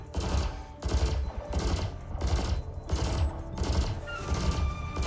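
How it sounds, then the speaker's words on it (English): Repeated heavy booming cannon blasts in a video game fire in rapid bursts, about five volleys in a row, loud and close with a rumbling low end and no talking. "Probably not worth the cannon fire"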